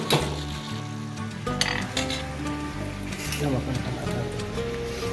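Chicken masala fries in a kadai on a high flame, sizzling while a spoon scrapes and clinks against the pan, under steady talk from a person.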